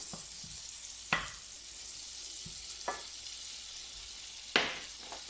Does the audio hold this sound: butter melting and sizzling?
yes